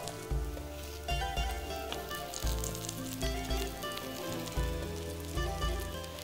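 Cutlets shallow-frying in oil in a pan, a continuous soft sizzle beneath prominent background music.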